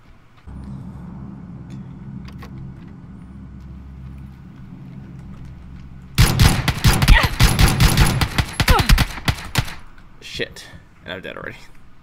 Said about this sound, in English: I'm stuck in the middle of a firefight